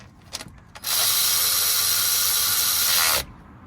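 A hand ratchet spins down valve cover bolts on a Toyota Previa, giving one close, continuous burst of rapid clicking for about two seconds that stops abruptly.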